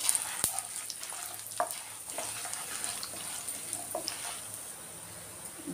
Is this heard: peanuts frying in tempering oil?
yes